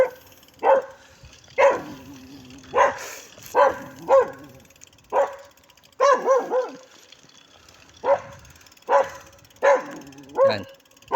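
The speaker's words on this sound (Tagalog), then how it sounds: "grabe itong aso na to," A dog barks repeatedly in loud, sharp bursts of one or two barks, close by, with a few whimpering yips among them, heard during a bicycle ride in the Philippines.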